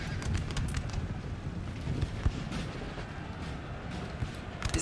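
Continuous crackle of musket volleys and dull booming cannon fire from a large 4v4 Napoleonic battle in a strategy game, dense and layered with scattered sharper reports throughout.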